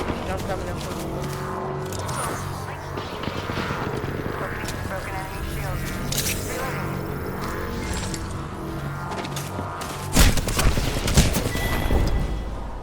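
Gunfire in Apex Legends rattles through a busy firefight, bursts of shots over a steady engine-like drone, with a louder burst of impacts near the end; voices talk over parts of it.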